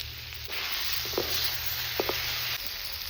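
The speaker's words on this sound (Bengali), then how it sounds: "এবার ভাজা চিংড়িগুলো দিয়ে দিচ্ছি" Fried prawns dropped into a sizzling pan of spiced vegetable curry: a soft background sizzle swells for about two seconds, with a couple of light metallic clinks from the utensil.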